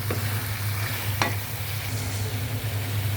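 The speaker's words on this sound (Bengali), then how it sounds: "আমি সুন্দর করে নেড়ে নিচ্ছি" Marinated chicken frying in spiced masala sizzles steadily while being stirred, with a low hum beneath and a couple of sharp scrape clicks from the spoon, close up and unaccompanied by talk.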